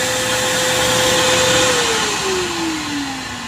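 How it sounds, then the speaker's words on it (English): A Eufy E28 robot vacuum dock empties its dust bag with a loud, steady whirring rush of air whose pitch slides down as it winds on, close by with no talk. "That's emptying the dust bag."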